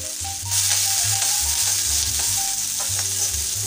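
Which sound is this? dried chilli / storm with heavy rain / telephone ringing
dried chilli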